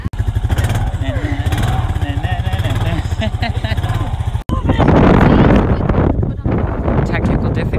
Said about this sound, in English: Me and Coco are about to ride this motorbike